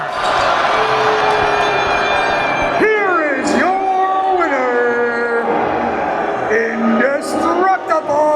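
A big crowd at a Demand Lucha wrestling show at The Well roars, whoops and yells after an overtime victory, loud and sustained, with shrill whistles and voices rising and falling over the din.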